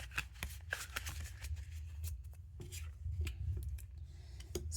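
Homemade personality cards are handled and shuffled, giving soft, close papery rubs and quick flicks in an irregular sequence, fairly quiet and with no talking.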